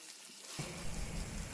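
Pieces of pork frying in a pan as water is splashed in, silence giving way at once to a dense, steady hiss and crackle that carries on loudly and close with no voices.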